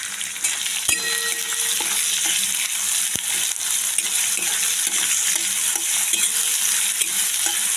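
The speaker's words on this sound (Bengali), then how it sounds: "এখন পেঁয়াজটা একটু নুন দিয়ে অল্প ভাজা ভাজা করে নিই।" Sliced onion fries with salt in a pan. A loud, continuous sizzle carries repeated scraping and clinking as it is stirred, with a sharp knock near the start; no one speaks.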